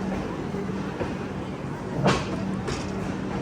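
The Kochuveli–Rishikesh Express pulls out of Vadodara Junction after a halt, a steady low rumble with faint rhythmic clatter and a brief louder clunk, heard from inside the coach.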